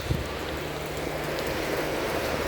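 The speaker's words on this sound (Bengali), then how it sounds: "দেখেন প্রচন্ড বৃষ্টি ছাদে থেকে" Heavy rain pours onto a rooftop in a steady, dense, close wash of noise with no talk over it.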